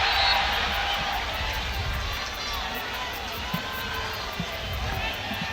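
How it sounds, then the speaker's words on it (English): Stadium crowd at a U-23 soccer match between the USA and Colombia, a broad steady roar of spectators swelling in the background beneath a commentator's voice. "The crowd coming alive now as Hyman floats it in."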